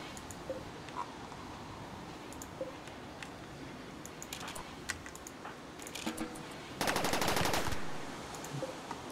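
Weapons fire in RimWorld, a faint scatter of small shots followed by one short, louder rapid burst near the end over a quiet background.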